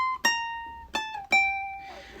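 Ukulele plucked with the right-hand thumb, three clear, ringing notes struck one after another with a short decay and a quiet, close sound, no voice.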